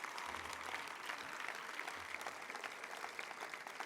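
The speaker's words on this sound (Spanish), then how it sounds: "Quiero pediros, como siempre, un aplauso para los voluntarios y voluntarias" At a political rally the crowd applauds the volunteers, steady distant clapping that stays faint and even throughout, with a low hum underneath.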